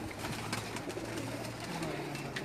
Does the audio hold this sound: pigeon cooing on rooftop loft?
yes